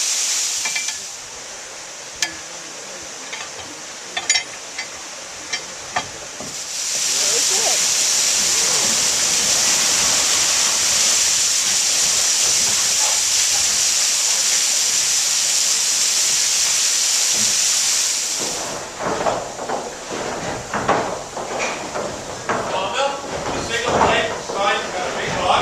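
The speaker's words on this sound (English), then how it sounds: "With that water wheel turning, the wooden gears downstairs you saw are turning, bringing the pivot rod and the saw up and down all the time on its frame." A water-powered sawmill runs, its water wheel driving the saw up and down on its frame; a steady rushing, hissing wash of water fills the middle, with irregular knocks and clatter before and after.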